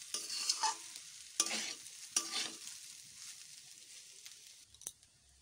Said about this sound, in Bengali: এবার ভালো করে রাইসের সাথে ভেজিটেবলগুলো মিশিয়ে নেব, ভাতটা করে একটু ভেজে নেব।